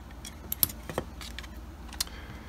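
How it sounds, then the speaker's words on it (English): A screwdriver kit for working on a 2008 MacBook is pulled out and handled, giving a scatter of faint, light metallic clinks and rattles at close range. "It's time to break out the good screwdriver kit."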